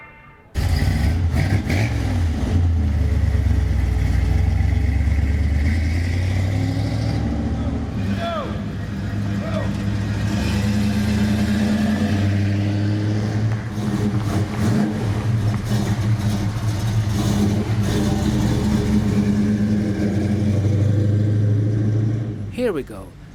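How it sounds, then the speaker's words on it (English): Several V8 lowrider cars rev their engines on a busy city boulevard at a car-hopping cruise, a loud, continuous low rumble with repeated revving swells, joined by crowd noise and voices throughout. "The gates are open and the V8s are revving, filling Main Street with a pleasant rumble."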